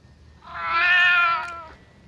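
A single drawn-out cat meow in a video game, clear and close, rising and falling over about a second against a faint low background hum.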